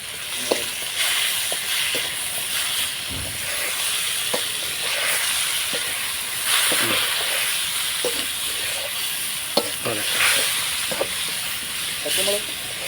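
Green chili and garlic sizzle in a hot pan while being stirred for puliyodharai tamarind rice, a continuous hissing fry broken by scattered scrapes and clicks of the spoon against the pan.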